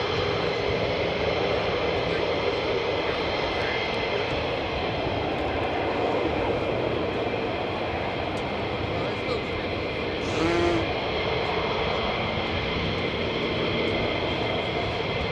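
A fighter jet taking off at RAF Lakenheath, a continuous loud, distant roaring rumble that holds steady throughout, with a person speaking over it.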